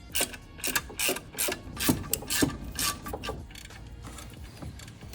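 Ratchet wrench tightening bolts on new shifter bushings of a Ford Fiesta ST, giving bursts of quick close clicking with short pauses between strokes, loud and alone with no talk.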